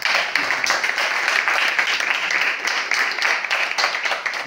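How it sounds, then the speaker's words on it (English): An audience at a book launch in Kenya applauding steadily for several seconds, dense overlapping claps with no pause, fairly loud and close. "I would ask you to help me appreciate alliance through Dennis by clapping."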